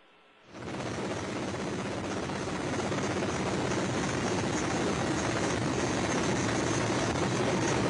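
A search and recovery helicopter hovers near the Soyuz landing site, its rotor and engine roar rising quickly and then holding as a loud, steady, close drone throughout.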